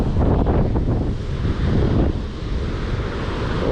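Sea waves crash against a cliff along the Australian coast, a steady loud roar of surf mixed with heavy wind buffeting, continuous and close throughout.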